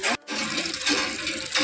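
A bucket fills with water from a tap on a farm in hot summer weather, a steady loud rushing gush after a brief pause, close by and with no voices.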